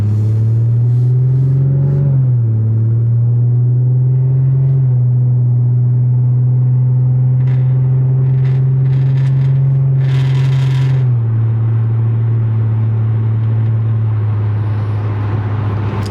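A car engine idles steadily in a repair shop, a low continuous hum with a slight dip partway through, faint clicks and shop noises above it, no talking.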